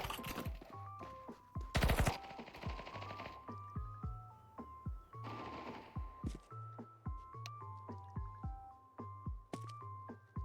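MP7 submachine gun fire in a video game: repeated quick, rhythmic bursts of sharp shots, close and punchy, with brief pauses between volleys and no talking.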